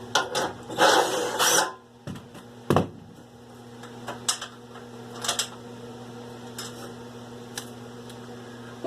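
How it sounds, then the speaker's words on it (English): Bolts come out of a push mower deck with a burst of loud rasping ratchet-like grinding at first, followed by sparse, scattered metallic clicks and taps against a steady low hum. "we're going to move on to taking these bolts out of the deck here"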